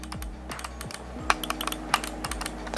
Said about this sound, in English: It has the light force speed switches, which is interesting because that means they're optical and mechanical, and that's giving you a very precise click.